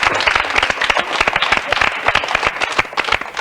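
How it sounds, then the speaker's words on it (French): Studio audience on a French children's TV show applauding, brisk dense rhythmic clapping that stays loud and steady throughout. "Tout le monde applaudit."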